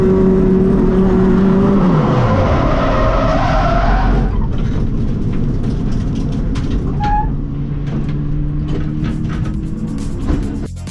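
An Excel Cup race car spins out with its tyres skidding loudly. The engine whine falls away as the spin begins, followed by a long scrubbing rush of rubber and scattered clicks and thumps as the car slides.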